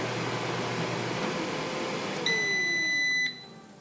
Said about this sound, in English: We have the final beep.